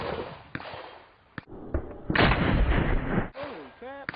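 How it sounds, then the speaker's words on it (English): A 12-gauge shotgun loaded with double-aught buckshot fires point-blank at a flashlight, producing sharp, loud blasts and booming reports at close range, with a short rising whistle-like sound near the end. "a point-blank range blast from a 12-gauge shotgun using double-aught buckshot"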